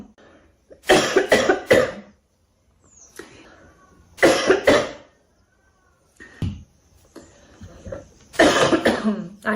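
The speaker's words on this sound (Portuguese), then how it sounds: "desculpa pela tosse" A girl coughs in a few separate fits, each a short burst of harsh coughs, close and fairly loud, with quiet pauses between.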